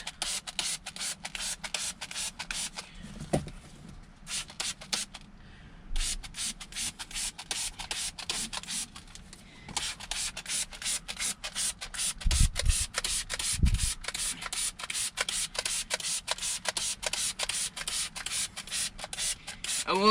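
Chemical Guys upholstery cleaner is sprayed and scrubbed into mouse-soiled car upholstery, giving rapid, rhythmic brushing strokes in long runs, broken by brief pauses and a few dull knocks, close and fairly loud.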